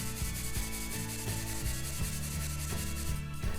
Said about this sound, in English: 150 grams of brown sugar, and whisk until well combined